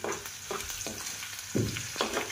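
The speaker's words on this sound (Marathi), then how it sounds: "पहिल्यांदा शेंगदाणे टाकते मी, नंतर कांदे, नंतर मग त्याच्यामध्ये मिरची" Peanuts, onions and chillies sizzle in hot oil in a pan, a loud close-up hiss with rhythmic scraping swells as the mixture is stirred about every half second.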